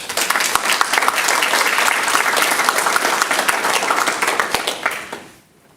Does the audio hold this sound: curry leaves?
no